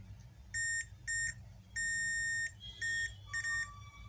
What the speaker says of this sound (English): The capacitors are beeping